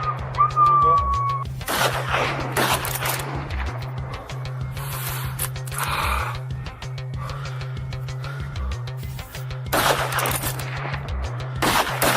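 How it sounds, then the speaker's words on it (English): Heavy weapons fire on a herd of wild hogs during a farm hog hunt, with rapid bursts of loud gunshots repeating through the clip and brief pauses between volleys. "As soon as the herd reached the kill zone, we opened fire."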